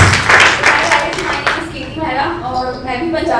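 An audience at a cricket talent hunt auction bursts into brisk clapping for about a second and a half, then the claps fade as a voice begins speaking.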